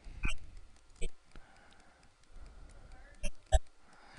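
Computer mouse clicks on a web page: a few sharp, isolated clicks spaced out over a few seconds, close and fairly clear against a quiet room background.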